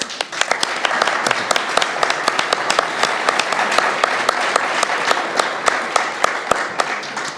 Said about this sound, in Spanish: para el cual pido un aplauso en este momento, por favor